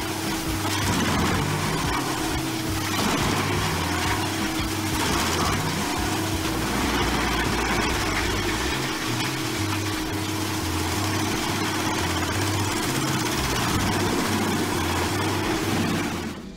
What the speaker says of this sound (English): drumwood chipper is equipped with a Scania DC16 engine with 656 horsepower